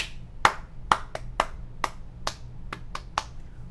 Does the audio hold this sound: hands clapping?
yes